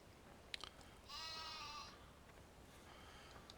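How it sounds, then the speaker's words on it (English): Sheep bleating in the farming video game Farming Simulator 17, one drawn-out bleat standing clearly above quiet background ambience, preceded by a few small clicks. "the sheep are around back"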